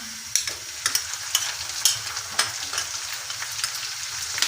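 Ginger garlic paste fries with golden-brown onions for chicken dum biryani, a steady sizzle broken by regular scraping strokes of a spoon stirring the pan, close and clear with no talking.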